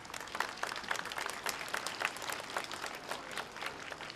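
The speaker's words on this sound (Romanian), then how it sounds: "Da, aplauze!" Children and parents at a school year opening ceremony in Dumbrăviţa clap for a teacher being introduced; the applause is fairly faint and distant, with individual claps audible in an uneven patter.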